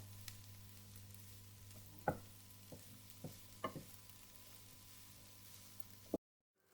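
Cannellini beans being mixed around in a cooking pan for a simple vegetarian pasta dish, with a low steady sizzle under a few sharp utensil knocks and scrapes, quiet and close, ending abruptly.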